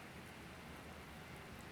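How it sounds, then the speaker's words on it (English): Steady rain falling on a rainy morning in a video game, a continuous even hiss with no distinct drops or thunder, soft and unbroken, with nobody speaking. "it's a rainy morning and I sure could use some coffee"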